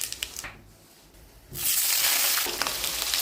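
Cumin seeds hit hot oil with a bright, loud sizzle that flares up suddenly and holds steady, after a few faint clinks and quiet kitchen shuffling.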